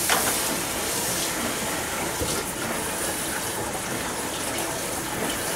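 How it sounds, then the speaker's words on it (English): Water runs steadily from a tap to rinse out the pitcher of a soy milk maker, a loud continuous gushing spray that fills the whole stretch with no talk. "Let me rinse this out real quick."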